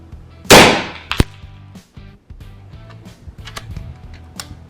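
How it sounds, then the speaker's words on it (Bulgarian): A single sharp, close report from an FX Dreamline Power Pup 5.5mm air rifle, quickly followed by a metallic clack, then quieter mechanical clicks and background rustling. "Втори изстрел."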